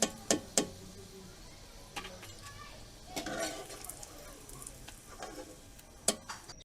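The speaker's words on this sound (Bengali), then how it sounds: "এরকম এক এক করে সবগুলো ভেজে নেব" Egg lollipops deep-fry in hot oil with a faint, steady sizzle, broken by sharp clinks of a utensil against the pan and a few quiet bumps.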